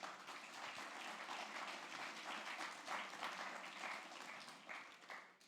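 An audience claps steadily at a startup community event, a faint, dense patter of many hands heard from some distance that holds evenly for several seconds and tapers off at the close.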